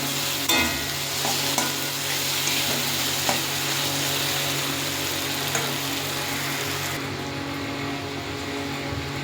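Onions fry lightly in oil in a pan while being stirred, a continuous crackling sizzle broken by occasional scraping knocks of the spoon, heard close with no speech, easing slightly near the end.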